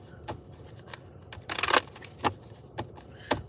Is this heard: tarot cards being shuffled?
yes